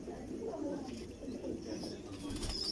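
Pigeons coo softly amid a busy loft of fancy breed pigeons, including a large hen in a mated pair, with a continuous low murmuring and steady background noise alongside human voices.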